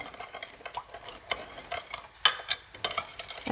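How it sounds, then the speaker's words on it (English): Utensil scraping and clinking in a pan as beef stir fry with ginger garlic sauce is stirred, with irregular close scrapes and one sharp metallic clack partway through. "I'll just use this to stir."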